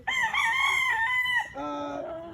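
A gamefowl rooster crows loudly and close by, one long drawn-out call that breaks and trails off at the end.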